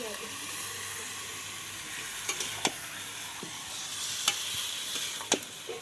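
Marinated meat cooks in a wok over a wood fire, producing a soft, steady sizzle with occasional sharp clicks and taps, fairly faint and with no talking.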